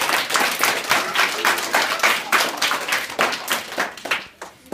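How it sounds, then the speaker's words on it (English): A small classroom group claps in a quick, uneven round of applause during a school awards session, close and lively, thinning out and fading near the end. "Round of applause"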